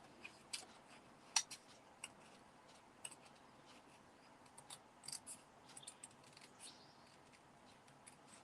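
Scissors snip through cardstock in a quiet room as a crafter turns the card by hand, giving a string of short, crisp, close cuts with uneven spacing.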